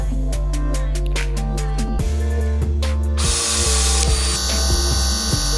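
PEX-A expansion tool expanding plastic tubing to fit an adapter, a close, loud motorized whine with repeated rhythmic mechanical clicks and pulses, shifting to a steadier higher drone partway through.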